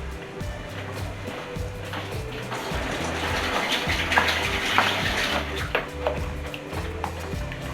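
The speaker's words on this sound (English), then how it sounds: "wash your spoon then" Kitchen tap water runs steadily while a spoon is rinsed under it, a continuous splashing rush with faint clinks, heard close and alone without talking.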